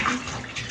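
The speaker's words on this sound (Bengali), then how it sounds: "আর মাছগুলো তো ভালো করে ধুয়ে নিই" Tap water runs steadily as pabda fish are washed in a kitchen, a brief, close, continuous splashing rush.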